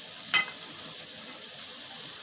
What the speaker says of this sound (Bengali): এবার আমি ঝোল দিয়ে দিচ্ছি।